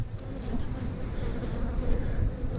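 Honeybees hum in a steady, low, dense buzz as a hive is opened for inspection and its medium and deep frames are worked. The swarm sounds close and continuous, with no talking over it.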